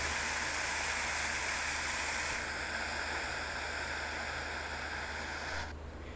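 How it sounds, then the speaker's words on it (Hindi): Rushing waterfall in the Livik map of the video game PUBG, a steady bright hiss of falling water that drops away abruptly near the end. "अब भाई साहब मैं आ गया था वाटरफॉल पे"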